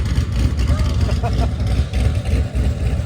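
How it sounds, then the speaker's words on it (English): A supercharged C6 Corvette idles with its exhaust valves opened, a loud, throaty exhaust rumble close by, a deep steady drone with slight pulses. "So we'll go ahead and open up the exhaust, kind of get rid of that."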